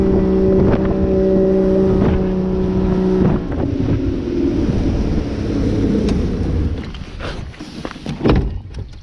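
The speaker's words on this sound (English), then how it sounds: "I can't control the boat with the motor." A boat's motor on a bayou drones steadily with buzzing harmonics, then cuts to rougher rumbling and wind buffeting the microphone, with splashes and knocks.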